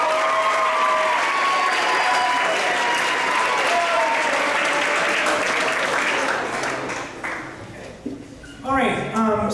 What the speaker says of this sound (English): One more round of applause for our four-year members.